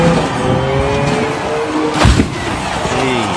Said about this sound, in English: watch which car can accelerate the farthest off the hill and just smash to the gravel below